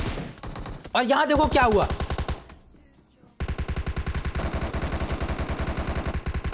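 Rapid automatic gunfire from a PUBG Mobile match rattles in dense bursts, one short volley, a brief lull, then a long sustained stream of shots, with someone speaking briefly over it.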